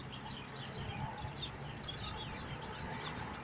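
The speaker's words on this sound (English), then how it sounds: "Birds are everywhere." Birds calling around their nests outdoors, a dense steady chorus of small chirps and tweets, some fairly near, over continuous background hiss and low rumble.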